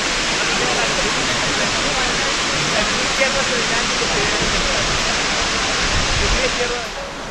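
Brekkefossen waterfall in Flåm, Norway, gives a steady, close, loud roar of falling water that stays constant throughout and eases slightly at the very end.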